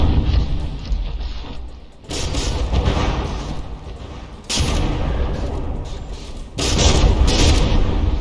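Battleship guns boom in From the Depths, heavy shell salvos arriving as three loud blasts spaced a few seconds apart over a constant rumbling naval battle.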